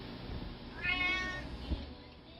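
Cats meowing inside a cat cafe in New Haven, Connecticut, with one drawn-out, clear meow rising over low room noise, close by and alone.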